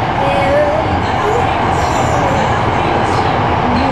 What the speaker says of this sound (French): c'est notre train, il est trop beau.